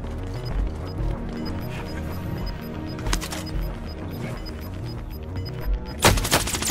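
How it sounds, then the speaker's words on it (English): Gunfire in a multiplayer battle royale shooter game, with scattered shots under a busy game soundtrack and two sharp, loud bursts of rapid fire, the last one near the end. "Receiving hostile fire."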